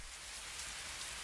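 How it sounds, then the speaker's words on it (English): Rain pours in the Fallstreak game, a dense, even wash of falling drops filling the brief moment, steady and fairly soft with no voices. "Overhead, the rain had begun to intensify."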